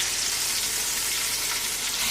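Chicken cooked with thirty garlic cloves fries in a pan, a dense, even sizzling hiss held steady and close for about two seconds with no voices.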